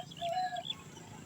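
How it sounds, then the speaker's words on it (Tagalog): Birds call noisily over a fishing spot in Pampanga, a few short tonal chirps and whistles in the first half, fairly close, over low background rumble. "Naku, ang gulo ng mga ibon."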